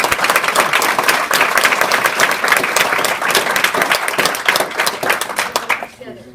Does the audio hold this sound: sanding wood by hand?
no